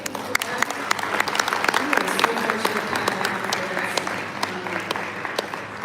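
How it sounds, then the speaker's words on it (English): Dense applause from a conference audience rolls on steadily, with many individual claps close by and loud throughout, fading slightly near the end. "Another round of applause."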